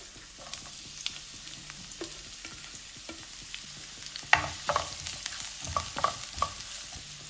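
Chopped onion frying in a half tablespoon of hot coconut oil for a mackerel fish fry, a steady soft sizzle with scattered stirring scrapes and a few sharper clinks of a spoon against the pan.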